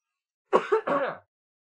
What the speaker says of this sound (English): Got to cough like right in between